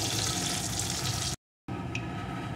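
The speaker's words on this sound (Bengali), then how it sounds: "এখন এগুলোকে তুলে নেব, নিয়ে বাকি মাছগুলোকে এই একইভাবে ভেজে নেব।" Pieces of shol fish fry in hot oil with a steady, dense sizzle close by, briefly cut to silence midway before the frying resumes.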